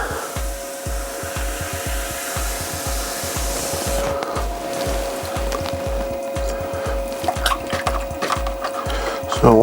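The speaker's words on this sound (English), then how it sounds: "Get the water off everywhere." Water wiped off a freshly thrown yarn bowl on a spinning pottery wheel: a steady rhythmic whooshing pulse over a low motor hum, growing rougher and louder toward the end, with no voices.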